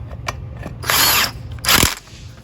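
A small cordless power tool drives size 13 wheel bolts on a tractor trailer, two loud close whirring bursts of about a third of a second each, separated by a short pause, with faint clicks before.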